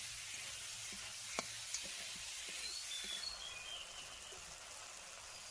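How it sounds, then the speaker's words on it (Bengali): Tomatoes fry with spices in a pan for pabda fish curry, a faint continuous sizzle with a few soft clicks of a stirring spoon against the pan, no voices. "এবার দিয়ে দিব ওই কেটে রাখা টমেটোগুলোকে দিয়ে খুব ভালো করে নেড়ে চেড়ে"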